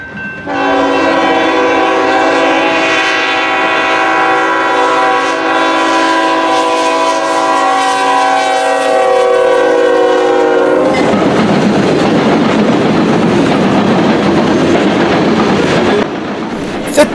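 A CSX coal freight train bound for the Toledo docks passes close by, its loud multi-chime horn blaring for about ten seconds before giving way to heavy rolling wheel rumble and clatter.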